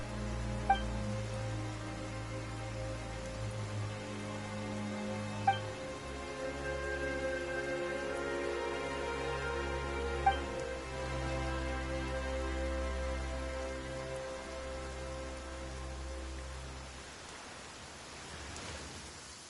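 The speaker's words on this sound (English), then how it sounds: "Why is it raining all of a sudden?" Rain falls in the video game Genshin Impact, a steady soft wash of drops under sustained musical tones, with a few faint taps, no talking.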